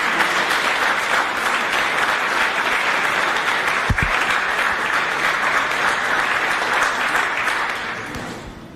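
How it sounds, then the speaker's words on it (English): Sustained audience applause at a 2012 charity children's gala: dense, steady clapping from a large crowd fills the whole stretch, then tapers off near the end. "I think we should give Andre and Cape Classics a huge round of applause"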